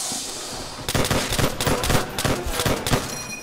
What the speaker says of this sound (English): Oh my goodness, I put a whole mag into his face